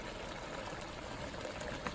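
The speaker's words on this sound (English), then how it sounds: "I'm just gradually adding in some water." Water is gradually poured into a bowl while making curry chicken with mango, a soft, steady, continuous trickle heard alone at low volume.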